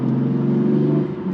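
BMW M4 with S55 engine after a stage 1 tune, a steady low intake drone and rumble at a constant idle-like pitch, close and continuous with no talk.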